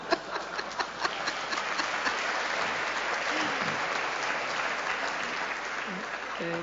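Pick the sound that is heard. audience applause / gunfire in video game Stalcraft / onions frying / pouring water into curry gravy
audience applause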